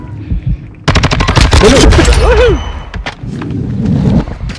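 Rapid automatic gunfire from the PC video game Call of Duty: Modern Warfare II, loud bursts of close shots with thuds and game effects, followed by quieter scattered shots and rumble.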